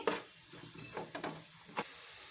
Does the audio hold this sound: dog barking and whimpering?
no